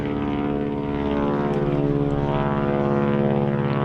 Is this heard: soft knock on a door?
no